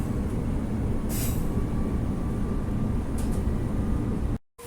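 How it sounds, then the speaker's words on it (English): A Perth suburban train bound for High Wycombe rolls past at Bayswater, a steady loud rumble of wheels and carriages filling the clip, with faint squeals overhead before it cuts off abruptly near the end. "There goes that High Wycombe train."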